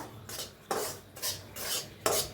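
Semolina roasting in ghee is stirred in a pan, with slow rhythmic scraping strokes about every three-quarters of a second. The gritty sweeps are fairly close and have no talk over them.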